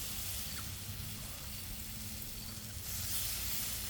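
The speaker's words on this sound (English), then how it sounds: "Got that nice sizzle, so the grill is obviously nice and hot." French toast sizzles in butter on a hot Blackstone flat-top griddle, a steady, soft hiss that continues without pause and swells slightly near the end, with no talking.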